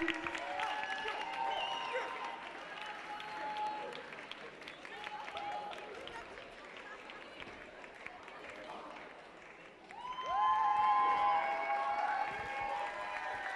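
A crowd at a francophone community show applauds the FX Dance School, sustained clapping mixed with whoops and high cheers that swell louder near the end, with voices talking through it.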